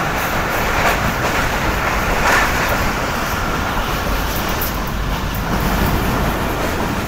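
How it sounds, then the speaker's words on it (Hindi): Karakoram Express, a train with old coaches running at high speed between Lahore and Karachi, heard as a loud continuous roar and rumble with faint rhythmic wheel clatter throughout. "क्या बेहतरीन स्पीड में ट्रेन ने स्किप किया है"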